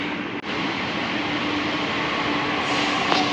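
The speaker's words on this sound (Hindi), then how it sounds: "Here comes my metro." A Delhi Metro train pulls into a station platform, a steady, loud rolling rumble and hum that continues without a break. A short dip comes near the start and a brief squeal comes near the end.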